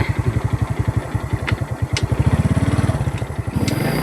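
Motorcycle engine thumping in a fast, steady pulse up close, with wind buffeting over the microphone and a rise in pace partway through.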